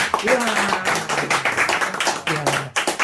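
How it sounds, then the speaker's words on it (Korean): Lecture audience at a Gwangju mission-history school clapping in a brisk, uneven patter, with a voice talking over the claps throughout. "박수 한번 더 할까요?"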